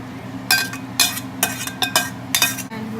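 Shrimp being stirred into Alfredo sauce in a pan, with a utensil scraping and clinking against the pan in several distinct strokes, loud and close, with no talk.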